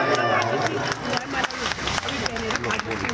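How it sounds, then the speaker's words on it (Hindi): A crowd at a devotional religious gathering claps in an uneven patter of sharp hand claps, with a voice talking loudly over the applause. "ताली तो बजाओ।"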